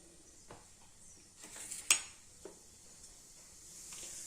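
Urad and chana dal hit hot oil in a pan, giving a faint, quiet sizzle broken by a few soft clinks and stirring sounds, with one sharper tap midway and no talk.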